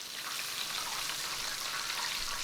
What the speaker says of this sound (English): in really hot oil, and let them cook until they're golden on all sides